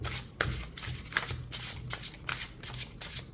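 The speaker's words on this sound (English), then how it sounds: "which is great when you are doing an overhand shuffle" Tarot cards from a landscape-style deck with slightly slippery coated cardstock being overhand shuffled by hand, a rapid series of close, crisp riffling slaps in regular bursts, with no talking.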